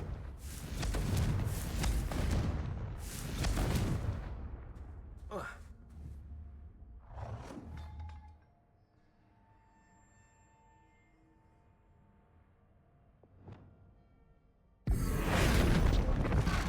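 Confringo explosive spell cast in Hogwarts Legacy: a cluster of heavy broadband blasts at the start, a few sharper bangs in the middle over a quiet, faintly tonal game backdrop, then another loud burst at the end.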